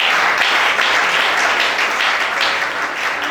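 A church congregation claps loudly and continuously, a dense, steady burst of applause filling the room with no voices over it.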